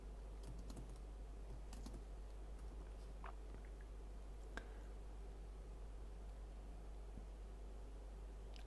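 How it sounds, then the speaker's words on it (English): Very faint, soft tapping of typing on a computer keyboard, scattered light clicks over a steady low hum and hiss, with no voices. "I see you typing."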